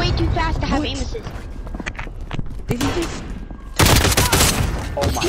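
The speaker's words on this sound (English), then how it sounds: "he's shooting way too fast to have aim assist" Rapid gunfire in the video game Call of Duty Warzone, with repeated shots popping under excited player chatter and a loud dense burst of fire near the end.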